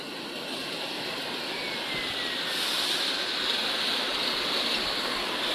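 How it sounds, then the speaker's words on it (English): Vegetable and fruit bubble washing machine with its air blower switched on, water bubbling and churning in a steady broadband hiss that swells slightly midway, close and continuous with no voices. "You can see the water in bubbling."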